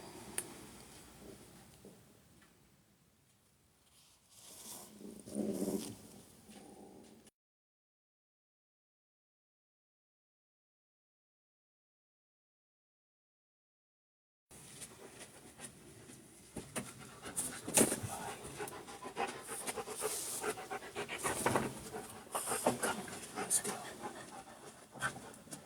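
Dogs pant indoors as they come down the stairs, a soft, rapid breathy rhythm heard near and faint, cut by a stretch of silence before the panting and rustling return.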